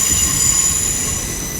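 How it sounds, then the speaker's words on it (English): A Heathrow Express train moves through London Paddington station, a steady loud rumble of wheels on rails with a high, sustained squeal of wheels over the whole stretch. "Another Heathrow Express."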